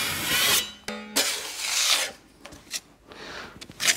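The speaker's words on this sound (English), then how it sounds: "I need to just slide the scraper across." Scraper rasping across dried base coat cement on plasterboard in several short, close strokes, each a gritty scrape separated by brief pauses.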